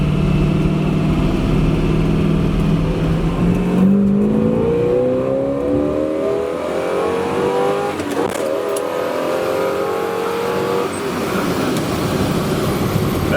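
A loud 1969 Camaro Z28 DZ 302 V8 engine revs up through rising pitch, holding a high snarling note, then easing back, heard close from inside the car.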